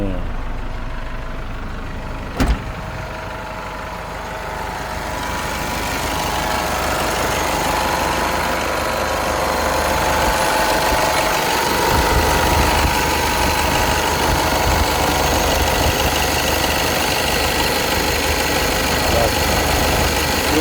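A used Toyota pickup truck engine cranks and catches with a sharp start, then settles into a steady, loud, slightly rough idle that continues throughout, with someone talking briefly.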